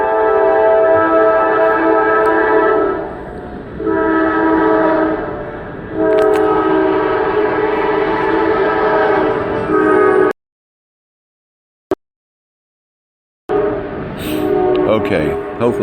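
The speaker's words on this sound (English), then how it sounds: "Here comes the train again." A train rumbles past close by with long, loud horn blasts over a steady rail roar, then cuts to silence before the noise briefly resumes.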